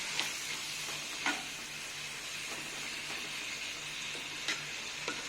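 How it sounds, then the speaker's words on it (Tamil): Tomatoes frying in a clay pot for chicken manchurian, a steady close sizzle and hiss with a few brief stirring scrapes, no talking. "தக்காளி நல்லா வதங்குற வரைக்கும் கொஞ்சம் வெயிட் பண்ணுங்கள்."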